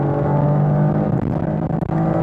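A 300-horsepower Chevrolet Camaro accelerates hard in first gear from inside the cabin, its engine note loud and rising steadily, then briefly dipping as it shifts near the end.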